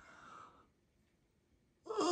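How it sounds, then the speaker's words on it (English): A baby gives a big waking yawn in bed in the morning, a soft breathy exhale that fades into near silence before a louder breathy sound returns at the end, close and intimate. "Oh, that's a big yawn."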